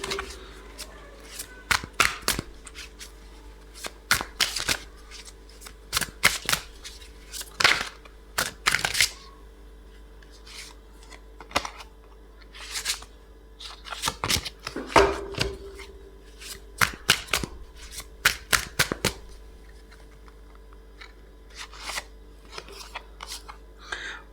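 Tarot card deck being shuffled: repeated crisp riffling bursts and sharp card snaps in uneven clusters, close and fairly quiet against a hushed background, with no talking.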